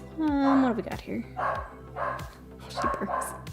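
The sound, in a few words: dog barking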